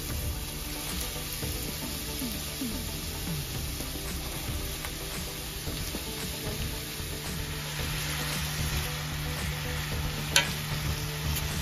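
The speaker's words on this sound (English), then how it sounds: "you're going to put your sausage and your peppers in" Sausage and peppers cook together in a pan for Southern tomato gravy, a low, steady sizzle with occasional stirring scrapes, quiet and continuous with no talking.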